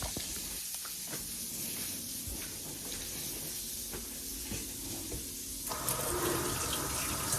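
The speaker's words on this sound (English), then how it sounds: "I'm putting a little water where my sausage at" Water poured into a hot pan of breakfast sausage, a continuous hiss and rush of liquid that swells louder near the end, with no talk.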